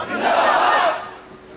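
A crowd at a mushaira gathering roars a unison chant in response to a Nara-e-Takbir call, the massed voices swelling loud for about a second before fading into a lingering murmur.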